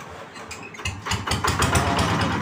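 A Kubota RD 85 diesel engine, suffering an internal fault that causes oil blow-by, runs up under throttle with a loud, close, rapid mechanical clatter and knocking that grows stronger as it revs.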